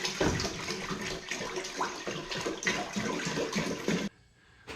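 A gallon of Brita-filtered tap water is poured into a brew pot, a steady rushing splash that runs continuously for about four seconds before cutting off abruptly, leaving quiet.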